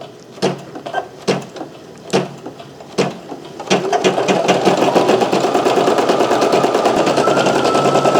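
A Brother SE1900 embroidery machine starts with a few separate mechanical clunks and thumps, then settles into fast, continuous rhythmic stitching, loud and close.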